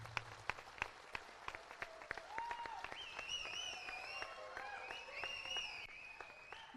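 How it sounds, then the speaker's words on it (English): An audience at a bank officers' association golden jubilee celebration claps in a steady rhythm, sharp regular claps under music with a melody line rising above them. "can give a big rhythmic clap, please"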